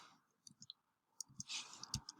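Quiet, sparse clicks of someone typing on a computer keyboard, a few isolated taps followed by a quicker cluster of keystrokes, close and fairly soft with no talk.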